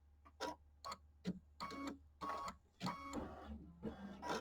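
A home embroidery machine stitches a tack-down line on a quilt block, giving a rapid mechanical run of needle strikes in bursts with short pauses, moderately close and steady, with no talking.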